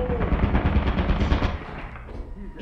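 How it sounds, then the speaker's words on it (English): An automated turret in the game Lethal Company fires a loud, rapid stream of shots in one sustained burst that tapers off after about two seconds. "There's a turret down there."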